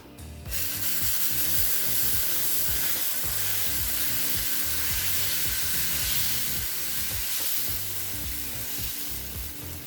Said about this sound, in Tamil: இப்போ இன்னொரு தோசை ஊற்றலாம்.